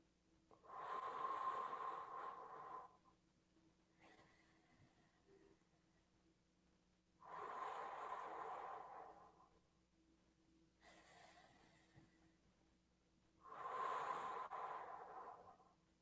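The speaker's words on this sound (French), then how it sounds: "On prend 5 respirations comme ça." Three slow, deep abdominal breaths drawn close to the microphone, each a long soft airy rush lasting about two seconds, separated by quiet pauses with faint room hum.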